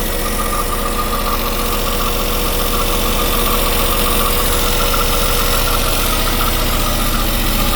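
A Westerbeke marine engine aboard a Boston Whaler idles steadily at close range, a continuous rhythmic knocking rumble with mechanical vibration, suspected of overheating.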